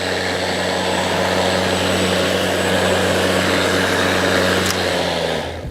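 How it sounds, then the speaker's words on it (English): A Greenworks 60V self-propelled battery lawn mower runs with a steady, loud motor drone and whine that holds constant throughout with no talking. "Turn the mower on, pull back the grey handle."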